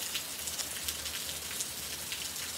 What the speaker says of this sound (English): And it is just downpouring.